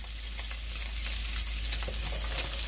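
Onions fry in rendered bacon fat, giving off a close, steady crackling sizzle with light stirring and no voices.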